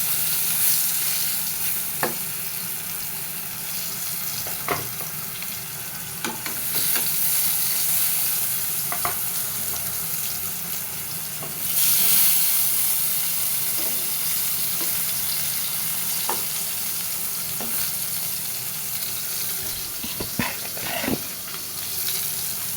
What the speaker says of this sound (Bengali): আলুগুলো ভাজা হয়ে গেছে, আলুগুলো তুলে নিচ্ছি